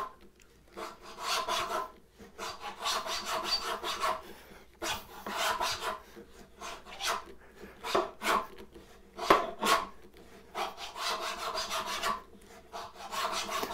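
A hand tool works like a saw, cutting down into wood for a mitered bridle joint, with quiet rhythmic rasping strokes in uneven bursts and short pauses, close by with no speech.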